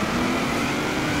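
A Nissan Titan Warrior truck drifting across an icy lake in Forza Horizon 3, its engine droning loud and steady at high revs for a brief moment, with no talking.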